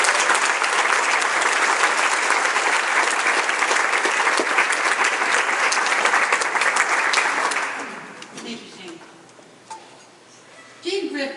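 An audience at a Northwestern Law School honors event applauds loudly and steadily in welcome for Sister Therese Delgenio, the clapping sustained for about eight seconds before fading to scattered claps and quiet murmuring.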